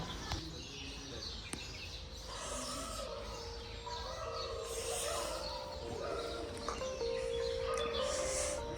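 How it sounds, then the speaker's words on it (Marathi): Morning birdsong at a seaside Shiva temple complex, with repeated chirps and calls from several birds and a rooster-like call, moderately distant over a soft ambient background, no speech. "ते किलबिलाट पक्ष्यांचं ते ऐकल्यावर असं एकदम कान एकदम तृप्त होतात"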